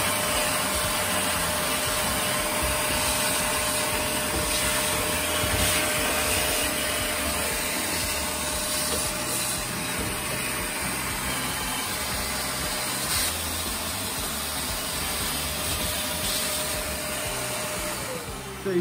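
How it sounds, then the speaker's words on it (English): A vacuum cleaner sucks lint from inside a clothes dryer, running steadily and loudly throughout, with a constant whine and broadband suction roar, no talking over it. "And you just wanna just vacuum it and get all this stuff out too."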